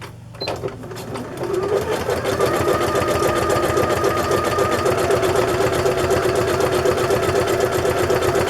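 Sewing machine stitching through a paper ink blotter attached to a rustic traveler's notebook journal, a fast, steady needle clatter that starts after a second and runs continuously, close and loud, with no talk over it.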